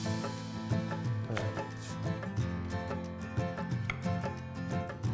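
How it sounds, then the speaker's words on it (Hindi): A knife chops potatoes, beans and carrots on a board in a kitchen, a series of close, uneven taps and knocks over a steady background hum. "जो पड़े हैं तो काट देते हैं।"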